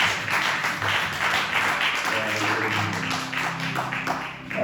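A church congregation applauds together, a steady, dense wash of clapping sustained throughout at close range, with a faint murmur of voices underneath.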